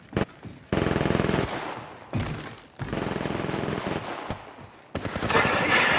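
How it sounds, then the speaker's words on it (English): Gunfire in the video game Apex Legends: several loud, close bursts of rapid automatic fire separated by short gaps, with some single thuds between them and no clear talk over them. "They're shooting at me!"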